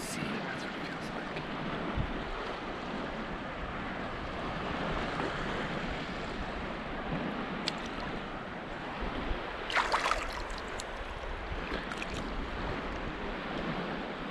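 Waves wash onto a Lake Superior beach in a continuous broad rush, blended with gusty wind buffeting the microphone and a sharper splash partway through.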